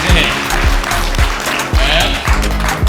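Guests at a wedding clap in a loud, dense burst of applause close by, with rhythmic beats running underneath and voices mixed in.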